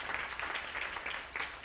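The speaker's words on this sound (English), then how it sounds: "how about one more round of applause for David Stanton" Audience applause at the close of a development conference, a steady wash of many hands clapping at moderate volume for under two seconds.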